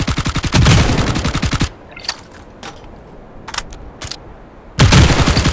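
Rapid automatic gunfire from a mobile shooter game, Hyper Front, comes in two dense bursts at the start and end, with a few single sharp shots and clicks in the quieter gap between.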